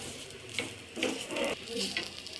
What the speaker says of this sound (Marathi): त्यालाही तेल लावून घेतले आहे। आणि मस्त खरपूस असं भाजून घेऊया।